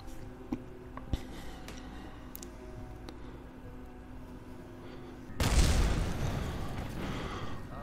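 In Kerbal Space Program, a low, distant rumble and scattered thumps give way to a sudden loud burst of noise that roars on and slowly fades, like a space station exploding.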